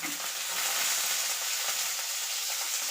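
Fresh fenugreek leaves sizzling in a frying pan for a bitter gourd chutney, a steady, close hiss of frying with light stirring throughout.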